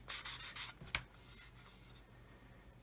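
Sandpaper of 400 grit rubs over a plastic part from a Roden C-141B Starlifter model kit, making faint, close scratchy strokes in short bursts that thin out toward the end, with no voices.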